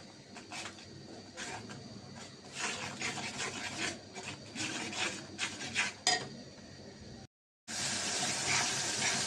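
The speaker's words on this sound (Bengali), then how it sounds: "এখন ভালো করে মশলাটা কষাই নেব" Spice masala for beef tripe fry is stirred in a hot pan with coriander powder and salt, a close rasping scrape of the spoon in uneven strokes over a low sizzle, briefly cut off near the end.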